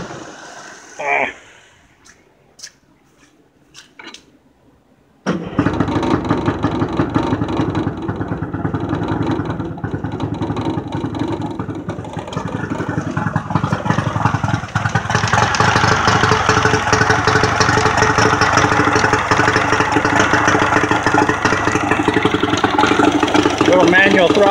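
A boat's outboard motor turns over after a few seconds of quiet handling noises, then settles into a steady, loud idle that keeps running and grows slightly fuller toward the end.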